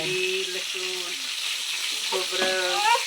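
Spiced brinjal frying with garlic in a pan gives a steady, close sizzling hiss, while a voice talks over it at intervals.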